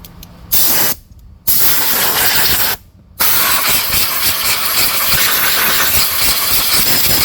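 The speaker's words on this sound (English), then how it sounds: "we got the short blowgun here" Compressed air blowgun hissing loudly and steadily close by as it clears a mouse nest out of a Husqvarna tractor with a Briggs and Stratton V-Twin engine, with a few brief pauses early on before one long sustained blast.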